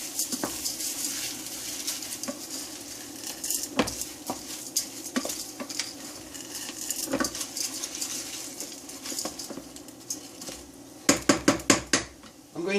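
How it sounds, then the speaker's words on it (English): Split peas added to sweated vegetables in a pot and stirred in, with scattered clinks and scrapes of a utensil against the pot, ending in a quick burst of sharp knocks. "I'm going to add my split pea to that."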